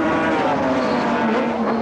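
750cc racing motorcycles at Brands Hatch in 1977, a steady loud engine roar with sustained whining harmonics, close and continuous throughout without any talk.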